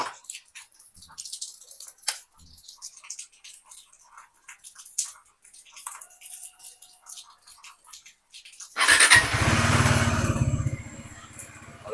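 After a long stretch of faint, scattered small sounds, a motorcycle freshly washed after two months of sitting unused fires up abruptly near the end and settles into a steady, close idle.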